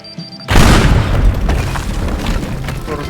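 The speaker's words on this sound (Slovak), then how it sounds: "Proste strašnú explóziu" A huge explosion goes off in the video game Teardown, a sudden loud boom after a quiet moment, followed by a long rumbling roar with crackling debris that slowly fades.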